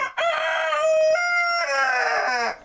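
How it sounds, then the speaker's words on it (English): An Orloff chicken gives a drawn-out, throaty growling alert call lasting a couple of seconds, sliding lower in pitch toward the end. "The uh, growl noise that they're making is a um, sort of less alarmed alert sound."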